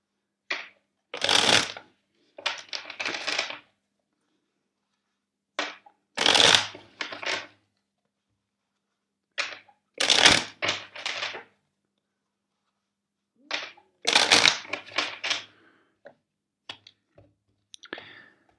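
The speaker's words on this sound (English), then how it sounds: "let's shuffle four times the deck" A tarot card deck is shuffled four times, each pass a quick papery riffle of crisp card clicks separated by short pauses, close and clear with no talking.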